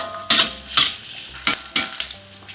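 Yellow onions sautéing in a home-kitchen pan with a few kaffir lime leaves. A spatula clatters and scrapes against the metal in a quick irregular rhythm over a soft, steady sizzle.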